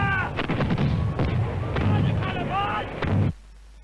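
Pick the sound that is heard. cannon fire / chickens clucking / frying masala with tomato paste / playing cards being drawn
cannon fire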